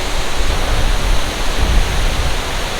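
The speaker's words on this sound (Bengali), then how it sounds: "ঝর্ণাটা মারাত্মক।" Karkatgarh waterfall in Bihar, a steady, loud broadband rush of falling water heard close and continuous, with no talk.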